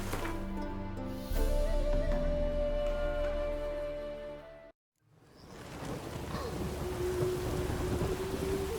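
Steady rain and thunder rumbling in The Witcher 3 fill the background, with a drone of music over them. Everything drops to near silence for a moment, then the dense rain and storm noise returns.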